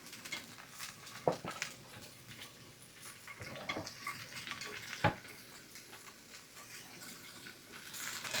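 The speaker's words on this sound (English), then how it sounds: "And let those fry for about 3 minutes." Mushrooms and other food fry in olive oil in a pan, giving a soft steady sizzle broken by a few sharp clacks of stirring against the pan, fairly quiet with no talking.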